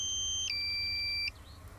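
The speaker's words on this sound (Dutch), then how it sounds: "Ik krijg het alarm dat de batterij bijna op is." A drone's low-battery alarm in the Litchi flight app sounds as a pair of steady electronic tones that step once to a new pitch and cut off abruptly after about a second, over faint background hiss.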